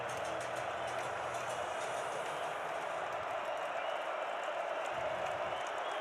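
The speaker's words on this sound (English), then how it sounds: "Bison crowd that's here is roaring" North Dakota State Bison home football crowd roaring in the stadium during a game against Youngstown State, a broad sustained distant wash of cheering at low level.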